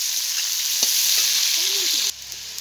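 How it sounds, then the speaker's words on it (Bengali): Onion, bay leaf and dried chili fry in hot oil in a wok, a steady loud sizzle broken by a few scraping stirs, close up with no talking, before the sound drops suddenly near the end. "কড়ার মধ্যে পেঁয়াজ দিয়েছি, তেজপাতা দিয়েছি, আর শুকনো লঙ্কা দিয়েছি, দিয়ে ভালো করে নাড়ছি।"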